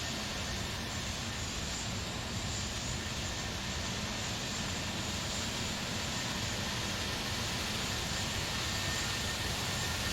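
IAE jet engines of a Toliss Airbus A319 in a flight simulator, a steady, even broadband roar with a faint high whine, continuous and unchanging throughout.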